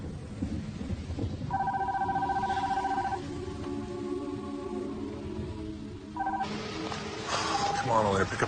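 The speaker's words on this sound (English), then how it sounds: "Come on, Elena, pick up the phone, will you?" A telephone is being dialed, with tonal beeps in short sequences and a ringing tone, under rumbling background noise and a voice speaking near the end.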